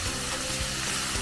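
Chopped onions sauteing in a pan for jeera rice give off a steady, close sizzle and crackle with faint stirring, continuous and fairly quiet, with no voices.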